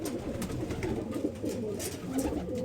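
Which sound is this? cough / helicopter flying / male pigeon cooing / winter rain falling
male pigeon cooing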